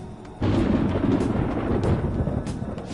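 Thunder in the video game Persona 5 Royal: a low, rumbling roll starts abruptly and sustains loudly for a few seconds, with no talk over it.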